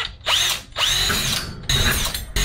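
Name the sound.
drilling a pilot hole for garage door opener bracket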